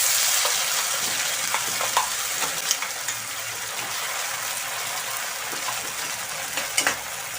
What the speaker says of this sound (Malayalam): കുറച്ച് ചുമന്ന മുളകും ഉള്ളിയും അതുപോലെ കറിവേപ്പില ഇട്ട് കൊടുക്കാം.